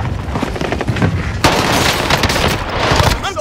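Sustained automatic gunfire in Call of Duty: Warzone on Rebirth Island, a dense rapid rattle of close loud shots that intensifies halfway through and runs the whole time.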